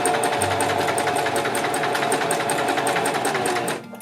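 A sewing machine stitches the collar stand of a button-up shirt in a rapid, even mechanical chatter that runs close and loud for about four seconds before stopping abruptly.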